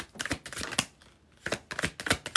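Tarot cards are pulled and slid from a deck, producing quiet, close papery snaps and flicks in two short bursts separated by a brief pause.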